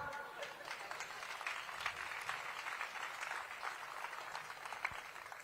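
A live audience at an outdoor comedy show in a town square claps together, a dense, steady patter of many hands that holds at an even loudness from start to finish, with no voices over it.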